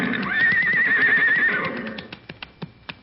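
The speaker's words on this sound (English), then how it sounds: "here he comes with the horses" A horse gives one loud, wavering neigh lasting over a second, followed by a few hollow hoof clip-clops, in an old-time radio comedy setting.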